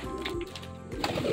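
Racing pigeons cooing at a loft during race basketing, a soft low murmur of coos close by, steady across the short moment with no talk.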